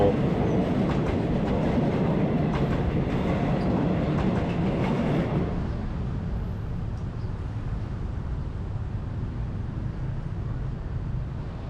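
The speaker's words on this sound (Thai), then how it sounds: "รถไฟนี่ก็ไป" A passing train on the Eastern Line near Makkasan, Bangkok, roars loudly for several seconds, then fades away, leaving a quieter low rumble of distant traffic.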